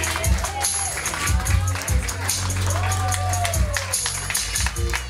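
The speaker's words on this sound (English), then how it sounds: "Clap your hands for the happy couple, ladies and gentlemen" Wedding audience clapping for the bride and groom during their first dance, a steady patter of applause from a crowd, mixed under music and an MC's amplified voice.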